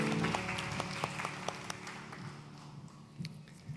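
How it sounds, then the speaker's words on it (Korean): Congregation applause for teachers during a Korean Sunday church service, scattered hand claps that are quiet and distant, thinning out toward the end, with a low steady hum underneath. "격려의 박수 하십시오."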